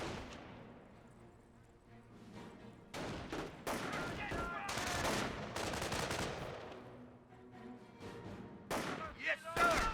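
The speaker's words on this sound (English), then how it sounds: "We got ground troops firing on us." Ground troops firing in Company of Heroes, a real-time strategy game: bursts of rifle and machine-gun fire in clusters, some close and sharp, others more distant, with faint voices mixed in among the shots.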